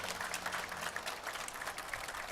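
Audience applause at a season-opening event, following an invocation and an honor guard presentation, with dense steady clapping throughout and no voices standing out.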